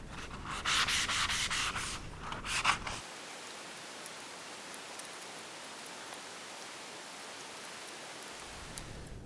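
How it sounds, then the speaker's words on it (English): A 220 foam sanding pad rubs over an antique laundry rack in fast, rhythmic back-and-forth strokes for about three seconds, then stops, leaving only a quiet background hiss. "I'm just gonna run over everything with a 220 foam pad."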